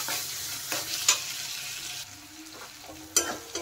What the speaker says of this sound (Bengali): দেওয়ার পরে টমেটোটা মশলার সাথে ভালোভাবে কষিয়ে নিতে হবে।